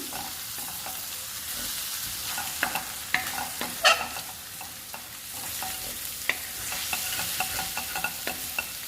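Egg rice is stirred in a hot pan, with a spatula scraping and clacking in irregular strokes over a low, continuous sizzle, nearby and fairly quiet.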